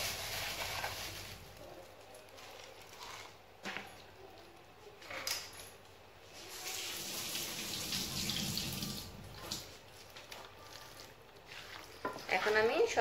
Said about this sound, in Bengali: আমি 2 টুকরা এলাচ আর দারচিনি এখন ধুয়ে নেব